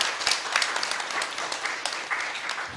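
Listeners at the 2022 Jeju Forum, a session on regional balanced development and education free zones, give a steady round of clapping. The applause is moderately loud and continuous, with sharper individual claps standing out.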